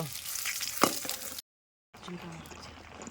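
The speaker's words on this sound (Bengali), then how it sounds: "ডিম ভাজা হয়ে গেছে এবার তুলে নেব" Eggs fry in a pan, a close, steady sizzle with a sharp clatter partway through, then a brief silence before quieter sizzling and faint background sounds resume.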